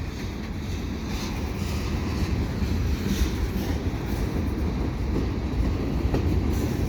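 A CN freight train carrying old MR-90 passenger cars rumbles steadily past at close range beside a street overpass, a dense low roar with faint clattering of wheels running the whole time, no voices.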